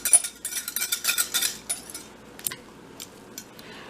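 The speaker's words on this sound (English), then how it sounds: "I'm going to use my wooden spoon to mix this at first" A wooden spoon stirs batter into a flour mixture for crepes, giving a run of quick scraping and tapping strokes against a bowl, fairly close and fading to sparser clicks.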